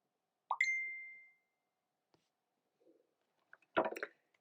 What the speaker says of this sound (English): Sorry about that pinging, my phone's at the side of me.